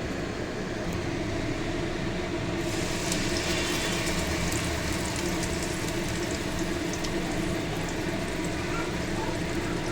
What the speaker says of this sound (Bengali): এইবার আমি তেলে এটা ছেড়ে দেবো।